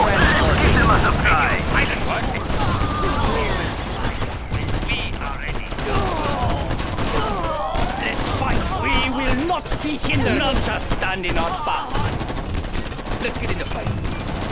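Sustained gunfire in a Command & Conquer Generals battle, rapid machine-gun bursts and shots crackling continuously and loudly for the whole stretch, with unit voice callouts mixed in.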